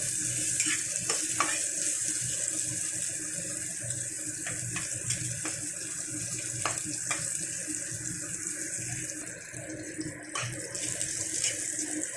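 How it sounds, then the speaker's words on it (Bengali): Bitter gourd frying in oil with nigella seeds makes a steady, close sizzle that stays constant throughout, with occasional light scraping clicks from stirring. "ওই তেলে দিয়ে দেবো কালো জিরে, তারপরে উচ্ছেটাকে দিয়ে আমি বেশ সুন্দর করে একটু ভেজে নেব।"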